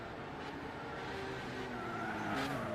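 A touring race car in Gran Turismo 6 spinning out, faint engine drone with a drawn-out tire squeal and skid sliding across the track, distant and low in level.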